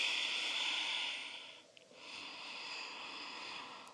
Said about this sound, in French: Essayez vraiment de faire le bruit de la mer. Un petit ronflement au niveau de la gorge, léger.